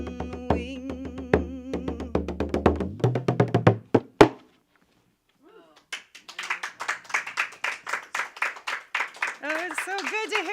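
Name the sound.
audience applause after a live song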